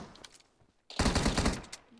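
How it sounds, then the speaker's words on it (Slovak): Rapid burst of video game gunfire erupts loud and close after a quieter stretch, a dense automatic volley lasting about a second before tapering off. "Kto do mňa strieľa?"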